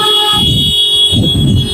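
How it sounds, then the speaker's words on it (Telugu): Two short toots of a car horn close by, one after another, over a steady engine hum, from a 2018 Ford EcoSport Titanium Plus diesel. "హారన్ కొడుతురు"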